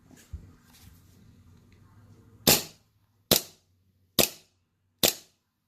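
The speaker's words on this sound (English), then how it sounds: "So you can see the slide work back and forth now with the short stroke." A KJW KP-06 Hi-Capa airsoft pistol with a short-stroke modification snaps its slide back and forth four times. The sharp, close clacks come at a steady pace after some faint handling noise.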